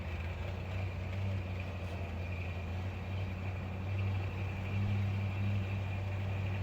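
A 1970 Jeep Wagonmaster engine idles steadily with a low, even hum as the transmission is put into gear, the rumble swelling slightly near the end with no speech over it.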